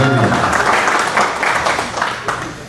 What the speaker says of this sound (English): Couple vasectomy claps.